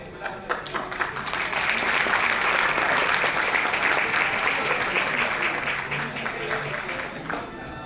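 An audience at a peace event in Myanmar breaks into welcoming applause for a chairman taking the stage, building quickly into a full, sustained round of clapping that fades slightly toward the end.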